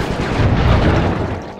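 Rapid gunfire from an overheating gun in the video game Sly 3: Honor Among Thieves, a dense continuous rumbling burst with heavy low booms, loud and steady throughout.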